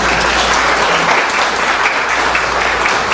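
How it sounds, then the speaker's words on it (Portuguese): Steady, dense applause from an audience at a talk, welcoming the speaker, loud and continuous throughout with no breaks. "Uma salva de palmas para"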